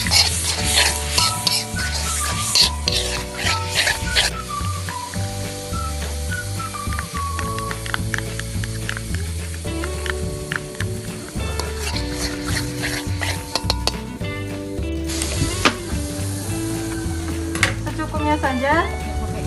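Finely minced garlic, 50 grams, is stirred into 100 grams of melted butter in a pan for a pastry topping, giving a steady soft sizzle with scraping and utensil clinks under background music.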